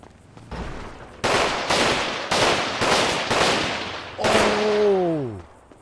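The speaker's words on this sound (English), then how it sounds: "Shooting at me." Gunfire in GTA 5 RP, five or six loud bursts of shots that come in a fairly steady rhythm, close and sharp, then a falling whine at the end.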